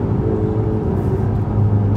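A Ferrari 488's engine roars heard from inside the car, a continuous, heavy low rumble that holds steady with no voices over it.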